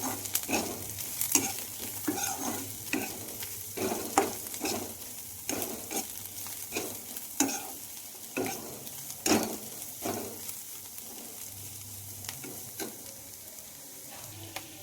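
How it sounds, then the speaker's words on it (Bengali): Vegetables tossed with cumin powder in a frying pan for masala muri, steady soft sizzling under repeated scraping stirs of a spatula, close and fairly quiet, with a low steady hum in the background. "সবজি এবং জিরে গুঁড়োটা একসঙ্গে মিশিয়ে নিচ্ছি।"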